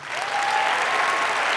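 Brief burst of audience applause at a SACNAS science conference, many hands clapping together at once, dense and sustained for a moment.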